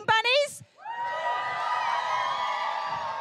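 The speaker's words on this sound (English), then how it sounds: "Let's hear another cheer for Team Bunnies" A church congregation cheers for Team Bunnies on Easter Sunday, a sustained mix of whoops and high children's shouts following a brief spoken cue.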